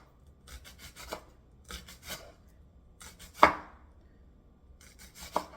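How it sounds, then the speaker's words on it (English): A knife slices an onion on a cutting board in four quick bursts of rapid, close cuts, each a cluster of crisp taps separated by short pauses. "So we're going to slice the onion"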